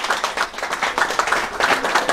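Audience applause for the venue hosts at an evening marine-technology talk and dinner at Brigadoon, a steady crowd clapping with no voices over it.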